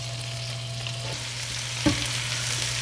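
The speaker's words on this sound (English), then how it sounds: "Going to add the shallot to the pan and the green beans." Shallot and green beans sauté in butter with almonds in a pan for green beans almondine, giving a steady close sizzle broken by one brief clatter of tossing near the end.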